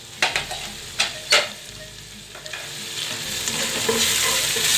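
Spices frying with meat in a pot for kadu gosht, stirred with a spoon: a few sharp scrapes early on, then a steady close sizzle that grows louder, with no talking.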